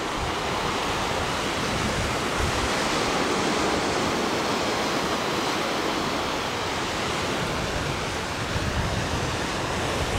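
Mediterranean sea waves on the Turkish Riviera near Side, a steady, dense wash of surf that fills the whole stretch at a constant loud level with no voices.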